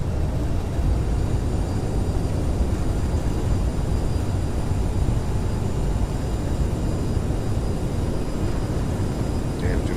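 A CRJ700 airliner in Microsoft Flight Simulator roars with its engine thrust reversers deployed on landing, a broad loud rumbling whoosh that holds steady and continuous the whole way.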